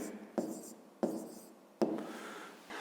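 Pen strokes writing out a fifth-grade math solution, several distinct scratchy bursts at close range, each starting sharply and tapering off.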